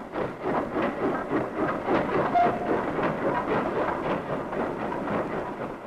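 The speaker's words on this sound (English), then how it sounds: "trains are forced to slow down and crawl along the uneven track." A 1959 train crawls slowly over uneven track on a weakened viaduct, making a steady, heavy rumble with faint rhythmic clatter. It carries on at an even loudness throughout, with no voices.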